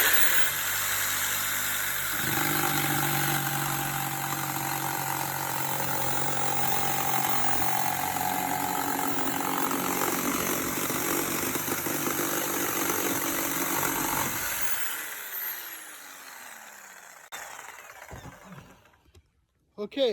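A handheld power saw runs loud and steady while cutting Schedule 40 PVC pipe one-handed, then winds down and stops after about fifteen seconds, leaving faint handling noises.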